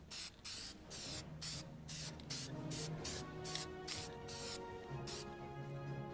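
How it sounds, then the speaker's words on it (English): Short repeated bursts of spray paint hissing onto a cosplay shirt, close and fairly loud, about a dozen quick sprays in an uneven rhythm with brief pauses between them. "what I'm going to do is spray a little spray paint on it"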